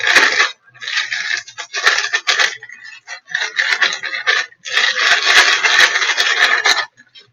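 A sealed zip bag of smashed tomatoes shaken hard in bursts, loud rhythmic rattling and sloshing in several runs separated by short pauses, close up with no talking.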